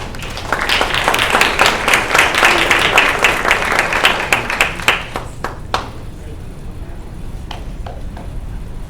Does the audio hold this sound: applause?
yes